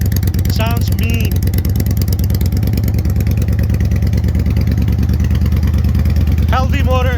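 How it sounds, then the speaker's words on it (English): A 2016 Victory Gunner cruiser motorcycle with a 6-speed transmission idles and runs with a deep, pulsing engine rumble, close and loud, while a voice talks briefly over it at the start and end. "Healthy motor. Shifts as it should. 6-speed transmission."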